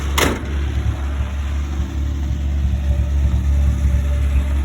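A 1966 Dodge Dart GT six-cylinder with a Super Six two-barrel manifold idles steadily, a low even rumble close by, with a brief sharp click at the start.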